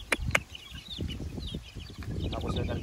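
A flock of McLean bloodline gamefowl roosters on a game farm, clucking and calling in overlapping bursts close by, with a couple of sharp louder calls early on.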